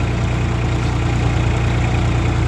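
A tractor engine runs steadily nearby with a harrow and rotavator, a constant low, throbbing drone with no pauses.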